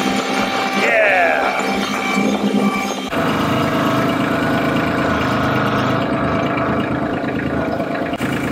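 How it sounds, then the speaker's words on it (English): A tractor engine runs steadily at close range on a farm property, a continuous droning idle with a brief higher whine early on, while people talk over it. "driving the tractor on the property!"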